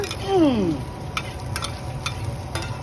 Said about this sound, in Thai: ดูพ่อค้าทอดหอยแล้วยิ้มแป้เลย